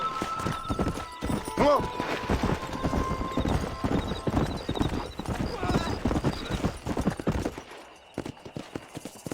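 A horse in the Red Dead Redemption video game gallops with quick, steady hoofbeats and neighs once sharply near the start, while people talk over the running hooves.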